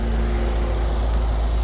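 A 2018 Volkswagen Golf engine fitted with an upgraded downpipe exhaust gives a steady, deep, low rumble, close and continuous at idle with no talk over it.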